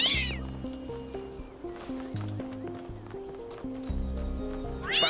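A cat in the video game Talos Principle 2 meows several times, with rising cries near the start and end, over steady looping game music with low sustained notes.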